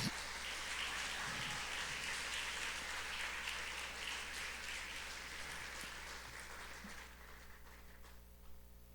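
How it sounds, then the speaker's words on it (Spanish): A church congregation claps together during a morning service, a dense hiss of many hands at fairly low level that slowly fades toward the end, leaving a quiet room hum. "Dale un aplauso al Señor en esta mañana."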